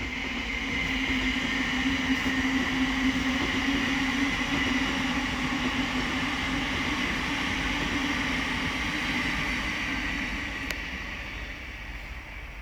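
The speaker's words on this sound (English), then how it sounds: "The next train to pass by is going to be a Thameslink Class 700 from London Blackfriars to Bedford." A Thameslink Class 700 train passes on the Midland Main Line at Elstow, a steady loud rumble and hum that holds for several seconds and then eases slightly as it moves off.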